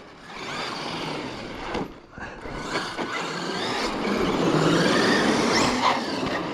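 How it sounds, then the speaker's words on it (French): A Traxxas E-Revo 2 RC car whines and buzzes as it drives over ramps, its electric motor rising and falling in pitch with brief drops as it jumps, moderately loud and near, with no talk. "le Revo il est quand même plus funky à rouler que le sledge"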